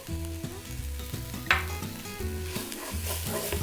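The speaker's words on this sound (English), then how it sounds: "We are going to add the garlic, a little bit of cumin." Garlic and cumin sizzle with browned onion in a pot for pork posole, a close, steady frying hiss with a spoon scraping and stirring through it.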